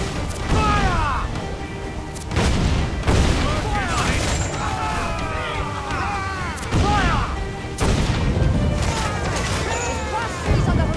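Ship cannons fire in Assassin's Creed IV: Black Flag, heavy booming volleys bursting every few seconds over a dense battle din, with shouted crew voices and clattering impacts mixed in.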